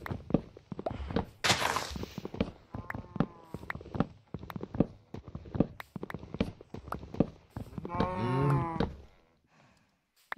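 Cows moo in the Minecraft video game amid clip-clop steps and scattered clicks, with a longer drawn-out moo standing out near the end over the busy in-game sounds.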